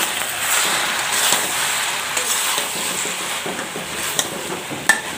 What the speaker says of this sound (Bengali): দেখুন এর মধ্যে টমেটো দিয়ে দিচ্ছি